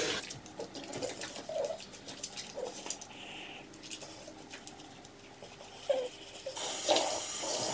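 Running tap water splashes into a sink while a face is washed, a steady close patter with irregular louder splashes from hands scooping water.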